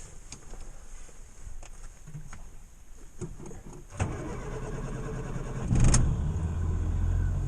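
A Morris Minor engine cranks with a steady whir and then fires into a rough, continuous idle near the end. The blower fan of a 12v heater runs underneath throughout, and there is no voice.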